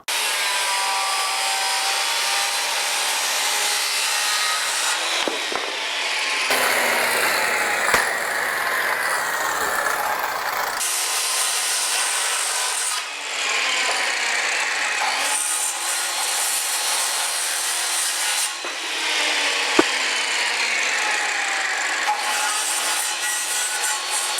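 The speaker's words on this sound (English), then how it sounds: "I'm going to adjust the saw at a 45-degree bevel for the plumb cut of the jack rafter" A circular saw set to a 45-degree bevel makes a plumb cut through a wooden jack rafter for a hip roof. Loud, sustained cutting whine and rasp run in several long passes, each broken by brief pauses as the blade spins down.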